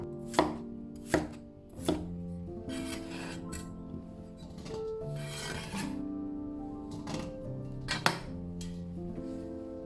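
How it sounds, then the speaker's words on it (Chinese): A knife cuts peeled, washed potatoes into roll-cut chunks on a board, a handful of sharp, distinct chops spaced unevenly, with quieter scraping and sliding sounds between them and no talking. "我们将削皮洗净的土豆切成滚刀块"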